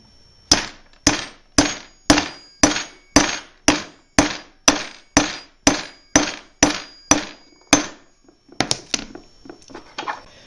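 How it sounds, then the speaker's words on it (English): A hammer taps a concrete anchor down into its hole with about fourteen sharp, evenly spaced strikes, then a short burst of quicker, scrappier hits at the end. No one speaks. "I'm going to take a hammer and I'm just going to tap it down"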